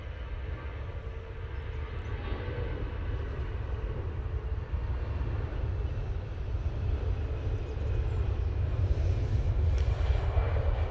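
An Aer Lingus airliner departing Manchester Airport for Dublin produces a deep, continuous engine rumble that slowly grows louder toward the end, distant and unbroken, with no voices.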